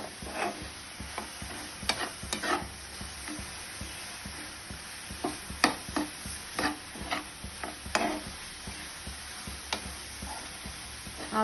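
Coconut, jaggery and poha filling with cumin and cardamom being stirred in a pan, a soft steady sizzle broken by frequent light scrapes and clicks of a spoon against the pan, close and moderately quiet with no talk.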